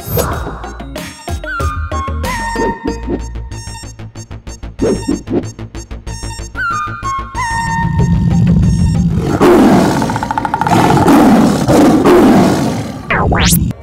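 A tiger roaring in a film scene, a deep rumbling roar that swells in the second half over a dense dramatic soundtrack with sharp hits and sustained tones, loud throughout.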